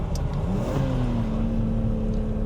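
A BMW E34 M5 engine revs toward high RPM, a loud close mechanical roar whose pitch climbs steadily over a couple of seconds and then holds at a high, sustained note, alone without speech.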